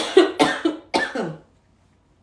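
Several dry coughs from one person in a quiet indoor setting, about five sharp bursts in quick succession with a brief pause midway, close and clear, then silence.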